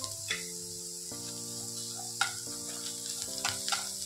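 Sweet corn, capsicum and other vegetables sauté lightly in a pan with salt and pepper, a quiet sizzle with a few stirring clicks under louder background music with stepped sustained notes.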